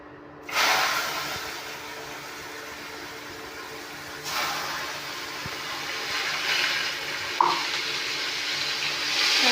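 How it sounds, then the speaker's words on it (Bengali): Raw onions sizzle in hot oil seasoned with nigella seeds for an egg-in-mustard dish, a steady broadband hiss that jumps in loudly near the start and swells again as they are stirred, with a brief clink of utensil near the end. "এবার কাঁচা পেঁয়াজগুলো তেলের মধ্যে ছেড়ে দিলাম।"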